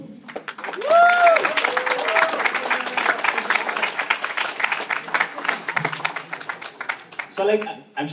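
Audience applause and cheering for a performer at a theatre show, steady clapping from a crowd with a few whoops over it, lasting several seconds and tapering slightly at the end.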